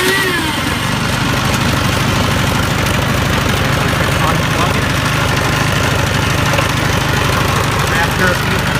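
A Troy-Bilt snow blower engine, started with its electric start button, chugs loudly and steadily up close, a continuous rough mechanical roar with no break.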